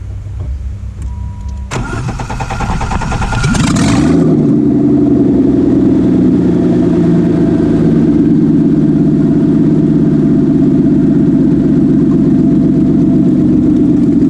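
A BMW E28 car engine cranks for a couple of seconds, catches and starts, then settles into a loud, steady idle close by with the muffler disconnected.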